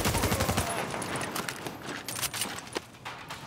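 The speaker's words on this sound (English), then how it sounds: "So these guys don't throw grenades, they shoot them." In the video game The Division, enemies fire grenade launchers during a shootout, producing a dense, continuous volley of gunfire. The bursts and sharp cracks come thick and loud, with no talking.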